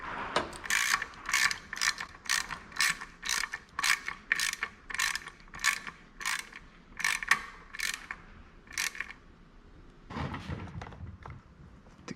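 Ratcheting wrench clicking as a bolt is tightened on a Suzuki outboard motor with a high idle fault, about fifteen quick close ratchet bursts in a steady rhythm, then a brief rattle near the end.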